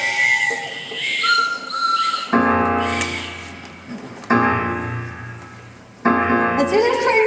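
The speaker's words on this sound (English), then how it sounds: "Let's do this train whistle!" A train whistle from the year 1912 blasts in three long, loud, close harmonic tones. Each starts abruptly and sustains, with short breaks between, and a lighter whistling sounds before the first.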